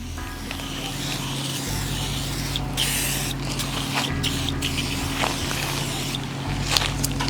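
Several short, sharp spray bursts from a trigger bottle spraying cleaner onto a seat hiss out at intervals over a constant low hum.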